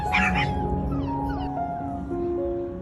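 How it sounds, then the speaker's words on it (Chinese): A played-back recording of a mother dog whining and calling, with wavering high whimpers and yips sliding in pitch, fairly close. "志愿者播放了网上狗妈妈寻找孩子的音频，引诱小奶狗出洞"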